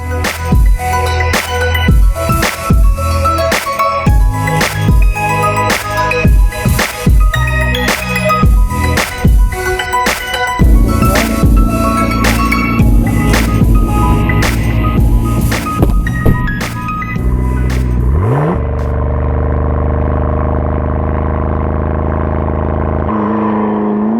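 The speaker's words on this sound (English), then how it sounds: "here we are actually finally driving the McLaren 650S on racetrack" McLaren 650S supercar driven on a racetrack, its engine droning loudly and steadily with repeated revving surges and gear changes, then settling into a smoother sustained tone near the end.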